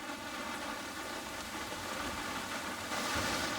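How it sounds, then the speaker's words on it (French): Rain falls steadily in Zanzibar at the start of the rainy season, a dense, even hiss of drops on surfaces with no breaks, heard alone at a moderate level. "On l'attendait depuis tellement longtemps, cette pluie, que c'est quand même une bénédiction."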